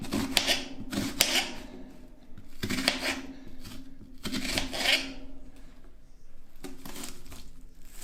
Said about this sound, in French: Découper l'oignon.